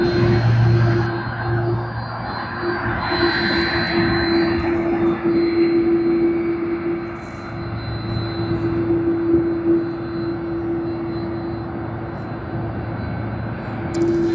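Aircraft engines roar at Sydney Airport, a sustained loud jet drone with a steady tonal whine, swelling and easing slightly over time, no speech.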